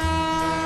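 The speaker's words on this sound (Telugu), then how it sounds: "ట్రైన్ కూడా దగ్గరికి వస్తుంది" An approaching train sounds its horn in a brief, loud, sustained blare with a steady rumbling tone underneath.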